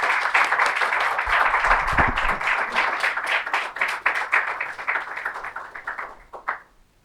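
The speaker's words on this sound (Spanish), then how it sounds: "aplausos para ellos" A crowd applauds steadily for several seconds at a book presentation, a dense wash of clapping that thins and fades out at the end.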